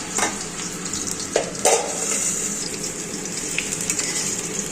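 Sliced new potatoes and nigella seeds frying in a pan give a continuous bright sizzle, broken by a few louder scraping stirs early on, close by with no voices.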